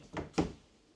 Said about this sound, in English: these are soft close drawers